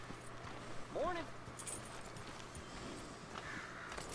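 Horse hooves clip-clop softly in Red Dead Redemption 2, a few faint steps in a town street under game ambience and a brief voice.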